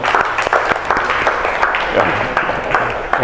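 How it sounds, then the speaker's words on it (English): Audience applause for Remy at a Q&A event, a burst of brisk clapping from a crowd with sharp individual claps standing out, fairly loud and short, with a voice briefly heard over it. "And please give him a big round of applause."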